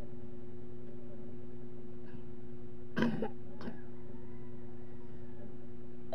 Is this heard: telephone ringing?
no